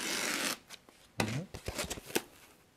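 An 8-shot auto-loading utility knife slices through thick sponge, giving a short rasping cut followed by several quick clicks and scrapes, with brief talk mixed in.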